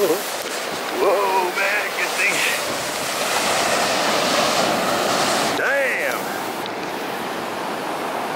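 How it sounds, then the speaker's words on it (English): Ocean waves breaking on Big Beach, a steady loud surf roar with broad wash and surge, while someone talks briefly in between. "That's why they say never turn your back to the waves."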